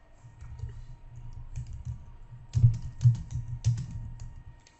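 Keys clatter on a computer keyboard as a title is typed into an app, a steady run of soft taps with a few louder strokes near the end, close and with no one speaking.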